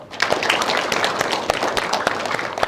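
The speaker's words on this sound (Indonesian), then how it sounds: "Boleh tepuk tangan terlebih dahulu" Guests at a televised dialogue forum in Banten, including students and community members, give a round of applause: dense, steady clapping with sharp individual slaps standing out, filling the room throughout.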